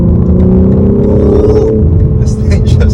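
A 2022 BMW M4 Base accelerates hard from inside the cabin: a loud, sustained engine rumble builds steadily, with road noise beneath and no break in the drone.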